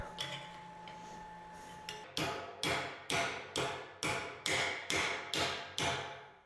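A laser-welded steel joint is bent open from the unwelded side, giving eight or so sharp, evenly spaced metallic knocks, close and loud, after a quieter stretch with a faint hum.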